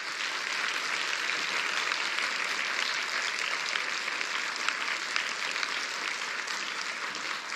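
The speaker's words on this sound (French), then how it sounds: "Je pense qu'on applaudit bien fort notre conférencier." An audience claps hard for a lecturer at the end of a conference talk, a steady, dense wash of applause that holds at full strength from start to finish with no voices over it.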